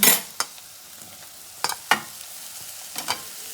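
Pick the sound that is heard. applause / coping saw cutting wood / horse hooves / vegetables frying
vegetables frying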